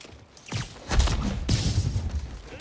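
Rapid bursts of gunfire in the video game Spider-Man Remastered, several sharp broadband cracks and thuds overlapping in a busy combat mix, moderately loud with rumbling low-end impacts and no clear voices.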